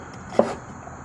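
A single knife chop lands on a cutting board while potatoes are diced for Malaysian curry puff filling. It is one short, fairly faint thud in an otherwise quiet kitchen.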